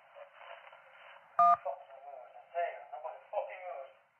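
A single phone keypad tone sounds in 911 Operator, one sharp beep heard through a narrow telephone line, with a voice talking before and after it.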